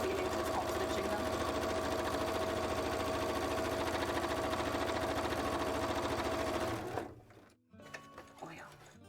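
Sewing machine top stitching bias tape on a cosplay piece, a loud steady running hum for several seconds before stopping, then a few quiet handling clicks.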